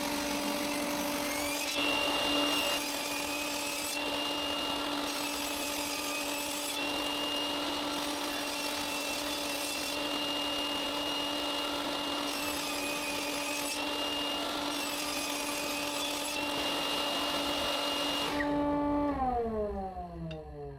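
A power saw cuts long strips of mahogany and maple, a steady high whine with blade harmonics and shifting pitch under load for about eighteen seconds, then the motor winds down and stops, no one speaking.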